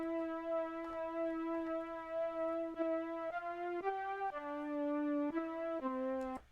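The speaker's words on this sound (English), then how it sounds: "This is a synth from my mini log right here." A Korg Minilogue synthesizer patch plays a sustained, buzzy tonal line that steps through several held notes, each with a bright, harmonically rich timbre and no voices.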